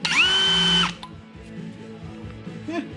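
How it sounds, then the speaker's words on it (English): A power drill boring a hole through welded steel shock mounts for a Corvette Dana 44 IRS swap in a Chevy S10, a loud whining run that spins down abruptly, followed by quieter clinks and shop noise. "drill a hole, and she'll be good to go"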